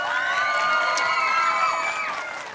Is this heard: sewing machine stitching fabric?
no